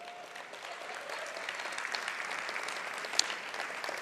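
An audience at an academic and athletics awards banquet claps steadily and continuously, a dense even patter of many hands filling the room without voices over it.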